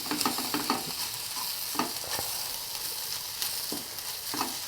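Chili powder and coriander powder fry in a pan while being stirred, so a constant sizzle runs under repeated scraping strokes of a spoon. The strokes are close and fairly soft, with no talking.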